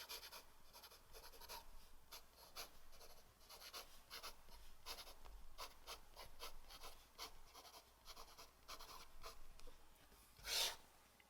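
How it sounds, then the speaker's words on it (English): A Lamy Safari fountain pen scratches softly across paper in a steady series of faint, close strokes, with a brief louder scrape near the end. "how well does Lamy Safari actually write?"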